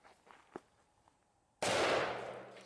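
A single sharp gunshot from a large-calibre handgun fired at a target cracks loudly and close after a stretch of faint shuffling and footsteps, its echo decaying over the next second.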